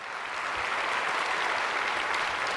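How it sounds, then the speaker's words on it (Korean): A church congregation claps steadily throughout, a dense, sustained wash of applause from a large gathering during a sermon, evenly loud with no voices over it. "진짜 이분들 박수 한번 해주세요"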